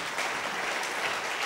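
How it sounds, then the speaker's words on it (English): A church congregation claps hands in praise, a steady, moderately loud burst of many hands applauding together. "Shall we give the Lord a hand clap of praise?"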